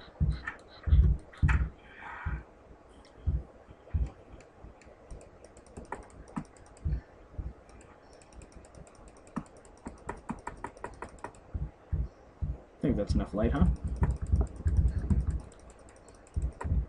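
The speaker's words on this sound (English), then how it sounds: "Sorry for the rampant clicking." Rapid bursts of mouse and keyboard clicking while gaming in Terraria, close and fairly loud, in quick irregular clusters with short pauses, heaviest near the end; someone speaks briefly in the middle.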